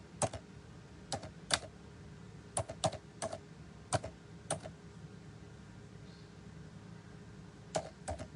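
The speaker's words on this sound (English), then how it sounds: "I can't even type today." Typing on a computer keyboard in a quiet room: sharp, close key clicks come in short irregular bursts of two or three strokes, separated by brief pauses.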